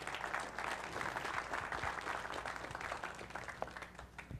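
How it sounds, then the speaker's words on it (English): Faint, distant audience applause at a church discipleship gathering welcoming a pastor, a steady wash of many hands clapping without pause. "Give him a big round of applause, guys."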